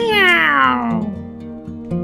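A cat meows in a children's Puss in Boots tale, one long falling meow followed by soft plucked background music.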